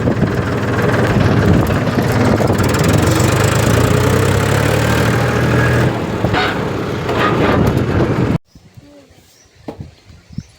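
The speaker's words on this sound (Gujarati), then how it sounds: "પાળો કરે છે ટ્રેક્ટર." A farm tractor engine runs steadily and loud at close range while working a field embankment, its low rumble continuous for about eight seconds before cutting away to quieter background with faint voices.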